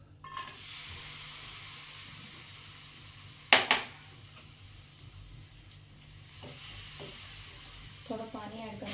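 Jaggery being cooked in ghee in a wok: a soft steady sizzle and hiss, a sudden loud burst of spitting partway through, and light clinks of stirring near the end.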